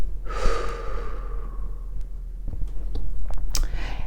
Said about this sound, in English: close your eyes and take a deep breath. Just breathe in with me. And let that breath out.